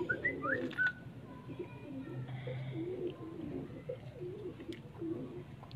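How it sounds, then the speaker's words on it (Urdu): Pigeons, including red-eyed breeding pigeons, coo softly and repeatedly close by on a rooftop, with a few brief bird chirps and whistles early on; a quiet, fairly calm setting. "یہاں پہ عاجز بھائی بتا رہے تھے کہ لال آنکھ والے کبوتر دیکھنے ہیں جی، کیسے لگے کبوتر جی آپ کو؟"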